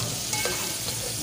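Onions fry in a pan with a constant bright sizzling hiss, close and loud, with a few faint stirring clinks and no speech.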